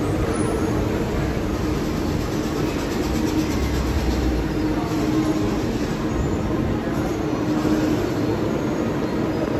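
Steady rumble of a monorail at the Magic Kingdom platform on a rainy day, a continuous loud wash of train and downpour noise with no voices.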